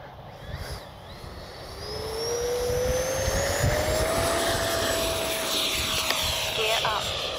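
RC F-16 70mm electric ducted-fan jet with afterburner sweeping past, a rising whine that builds and holds steady, loud and fairly close, with faint talk at the start.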